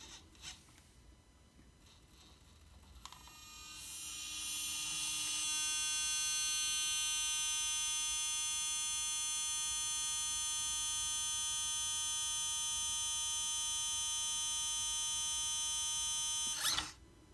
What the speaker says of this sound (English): this servo is so strong, I've just got to try it